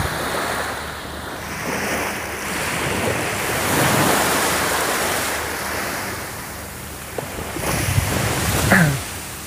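Surf washes steadily onto a beach on a small island in the Perhentian Islands, Malaysia, a continuous broad roar of breaking waves mixed with wind buffeting the microphone, swelling slightly midway, with a brief sharper sound near the end.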